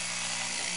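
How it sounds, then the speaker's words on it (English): A homemade vacuum pump runs with a steady high-pitched motor whine and buzz, constant and close for under a second, with no talking. "put your thumb over it and see that it is working as a vacuum pump"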